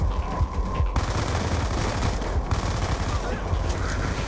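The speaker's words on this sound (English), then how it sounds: "MP5 rapid fire." Rapid automatic fire from an MP5 submachine gun in Call of Duty: Black Ops 2 rattles in a dense, continuous burst, loud and close, with sharp cracks standing out over the stream of shots.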